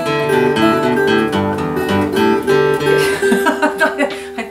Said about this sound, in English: one of the things you don't want to do is for two people to play a lead break at the same time